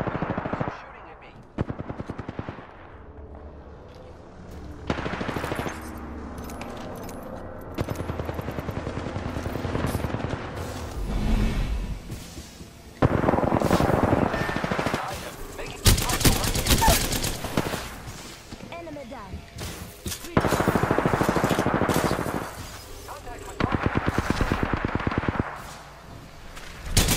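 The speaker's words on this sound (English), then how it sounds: "Shooting at me." Bursts of automatic gunfire in an Apex Legends firefight, loud rattling volleys broken by short pauses and single shots, with a helicopter-like drone in places and occasional voices talking between bursts.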